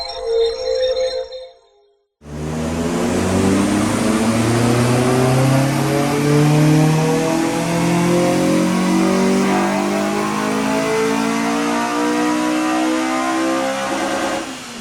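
A Honda Civic Type R engine, still stock, climbs through a long, loud, sustained rev on a dyno power run, rising steadily in pitch after a brief quiet moment at the start.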